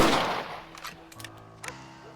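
Rifle gunshots in the Red Dead Redemption western video game, a loud blast at the start fading into a decaying echo, followed by a few fainter distant shots.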